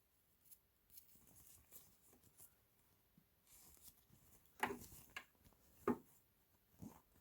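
Scissors trim an embroidered sign, giving a few quiet snips with two sharper cuts near the middle against a soft, low background.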